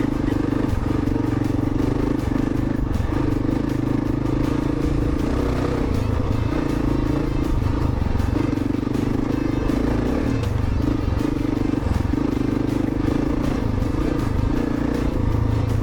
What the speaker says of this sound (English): This is the perfect sort of track for an adventure bike. I can go a bit quicker and not be bouncing so much.